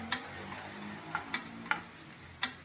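Whole green chillies gently frying in ghee over low heat for ghee rice, a quiet low sizzle punctuated by a few sharp ticks and pops spaced irregularly, close and with no speech.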